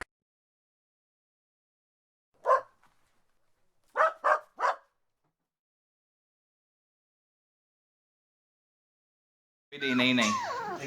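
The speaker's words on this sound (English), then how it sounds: "Dog." A dog gives one short bark followed by a tight burst of three barks, clear and close against silence, with a brief voice coming in afterward.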